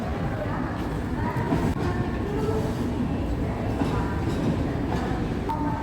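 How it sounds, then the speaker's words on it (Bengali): A train rumbles past nearby with a steady low roar and rattling wheels, while faint voices murmur underneath. "এখন আমার সামনে যাচ্ছে একটা ট্রেন"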